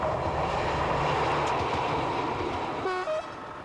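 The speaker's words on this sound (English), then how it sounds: "The diesel line from Obergrafendorf to Wieselburg is worked mainly by single Class 5090 railcars." A Class 5090 diesel railcar rumbles steadily along the narrow-gauge line from Obergrafendorf to Wieselburg in rural Austria, wheels clattering over the track, with a short horn tone near the end.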